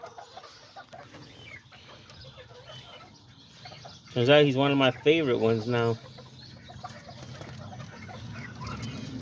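A little orange rooster clucks in a loud, close burst of rapid calls lasting about two seconds, set between stretches of a person talking over quiet background noise.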